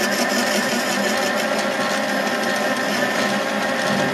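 A metal lathe takes a facing cut, using a tool held in a tool post adapter, with a loud, steady motor whine and cutting hum that continues unbroken throughout, close and with no talk.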